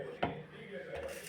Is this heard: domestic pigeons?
no